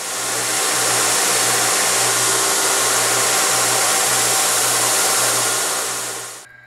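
A belt grinder works a hunting knife blade against the flat platen, giving a loud, steady, continuous whirring drone that holds evenly for about six seconds before cutting off abruptly.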